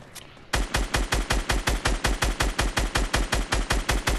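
Rapid automatic gunfire in the video game Fortnite, a loud close burst of evenly spaced shots fired in a steady rhythm after a brief quieter lead-in, with no talk over it.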